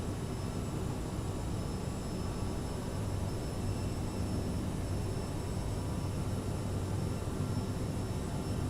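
CRJ jet engines in a flight simulator game hold a steady, broad rumbling roar with a thin high whine on top, constant in level throughout and without speech.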